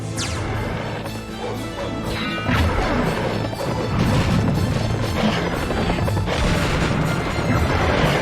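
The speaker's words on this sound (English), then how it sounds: "Yay, the laser cannon." A laser cannon fires in the Serious Sam video game, giving dense, continuous crashing blasts with a heavy low-end rumble that get louder midway and keep going without a break.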